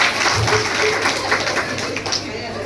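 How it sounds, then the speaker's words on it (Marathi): Guests clap at a sakharpuda engagement ceremony in a short, lively burst of hand clapping that runs under overlapping chatter and voices. "हुशार टाळ्या झाल्या."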